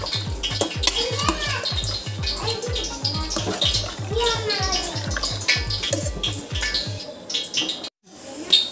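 A spoon stirs beef curry in a pot with rapid, rhythmic scraping and clanking, fairly loud and close, and the stirring stops near the end.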